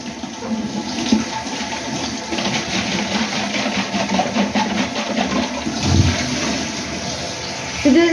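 Running tap water splashes steadily while a water bottle is rinsed out, with a constant close gush that swells briefly near the end.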